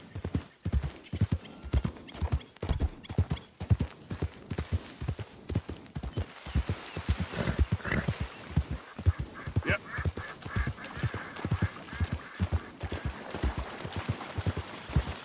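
Horse hooves clip-clop in a rhythmic galloping beat through Red Dead Redemption, steady and close, with a horse whinny and duck-like quacks from the wild ambience layered in the background.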